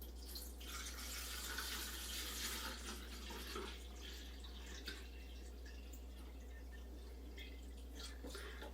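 Liquid trickles and splashes into a 4-liter pot in a home kitchen, a faint, steady pouring that runs unbroken for several seconds over a low background hum.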